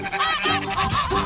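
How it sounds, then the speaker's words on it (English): A farm goose gives a few loud, nasal honks in quick succession, close and clear without any speech. "This is a goose."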